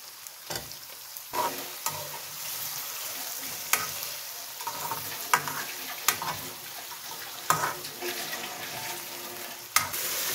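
700 grams of chicken fries in a pot with bay leaves, a steady close sizzle broken by repeated scraping stirs and clanks of a spoon against the pot.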